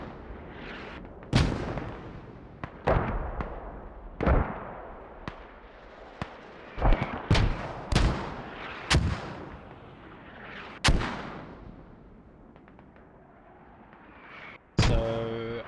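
Mortar rounds in a competitive squad-based shooter match, heard as a series of loud, sharp booming impacts with rumbling decay, spaced irregularly over about fifteen seconds, some closer and louder, with no talking over them.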